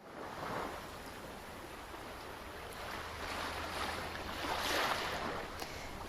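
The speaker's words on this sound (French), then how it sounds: "Je peux même vous laisser écouter un petit peu le bruit des vagues." Ocean waves breaking on a shore: a continuous wash of surf with slow swelling surges, one rising crest building to the loudest point near the end, steady and fairly close with wind noise underneath and no voices.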